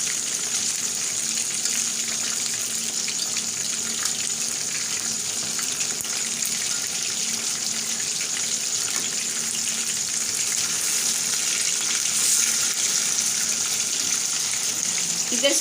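Lemon chicken frying in a pan, a steady, even sizzle that holds at a constant level for a long stretch, close by, with no talking over it.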